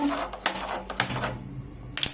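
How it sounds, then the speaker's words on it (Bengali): Sharp clicks from a gas stove igniter in a home kitchen, a few distinct ticks spaced about half a second apart, close and fairly loud with a low hum between them. "গ্যাস অন করে নেব।"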